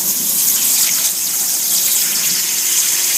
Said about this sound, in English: we'll go ahead and raise that water a little bit higher because it's blowing it out of the way